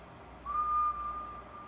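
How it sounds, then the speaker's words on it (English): A single clear whistled tone, held as steady as a sine wave, sounds alone in a quiet room for about a second before tapering off. "now we'll do a demo of the inverted noise by creating a sine wave through whistling"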